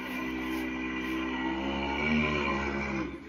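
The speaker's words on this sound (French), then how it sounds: "Voici un bruit de léopard." A smart speaker plays a leopard call, a low, rasping, harmonic growl that swells slightly and fades at the end, fairly quiet and heard alone.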